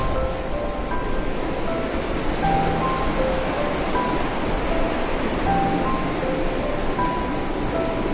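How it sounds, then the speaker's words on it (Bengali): Glacial meltwater from the Panchachuli glacier rushing down a stream by a bridge on the trail, a steady, dense, broadband roar that fills the whole clip without pause. "পঞ্চচুল্লি গ্লেশিয়ার গলে জল হয়ে সেটা এখান থেকে নেমে আসছে"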